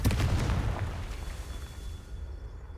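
A Confringo fire spell cast in Hogwarts Legacy bursts out as a loud, booming blast with a rushing, crackling roar that slowly trails off over a few seconds.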